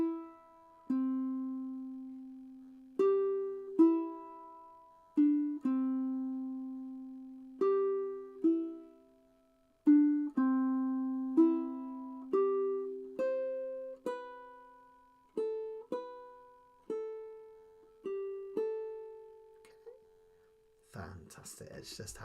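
Fingerstyle ukulele picks the opening melody, clear single plucked notes ringing out one by one at a slow, gentle pace, fairly quiet and alone, with a brief rustle at the end.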